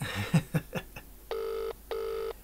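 A telephone rings twice in long electronic bursts after a few brief knocks and rustles, the tone steady and moderately loud.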